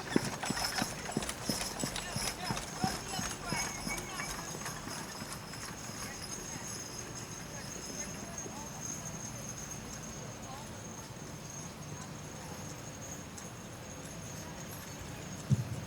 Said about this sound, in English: Trot, please. Trot your horses.